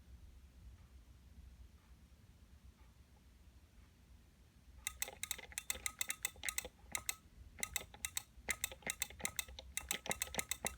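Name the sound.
computer keyboard key presses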